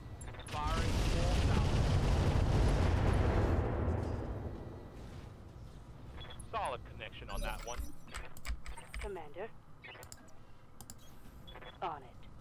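Deadfire weapon firing in the mech combat game Roguetech, a loud dense roaring burst of fire for the first few seconds that fades out, followed by scattered smaller impacts and clicks with radio chatter.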